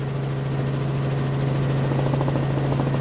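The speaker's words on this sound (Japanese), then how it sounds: "この集会を取材するために私たち正しい報道ヘリの会は佐賀の空港からヘリコプターで駆けつけました。" Helicopter flying over an anti-nuclear protest rally in Fukuoka, a steady loud rotor drone with a strong low hum and fluttering blade chop throughout, no voices.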